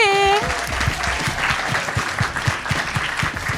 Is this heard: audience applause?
yes